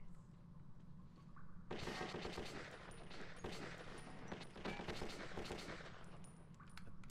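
Rapid gunfire from the Bastard gun in the video game Metro 2033, a dense sustained burst of shots after a quieter start, loud and close, with no talking.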